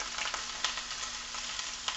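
Chicken pieces, a few small and some large, browning and searing in a pan: a steady, close sizzle and frying hiss with occasional sharper pops and spits.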